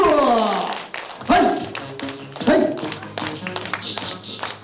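Scattered audience claps and taps at a small live magic show, a few sharp hits standing out over music and a low hum, fairly near and loud.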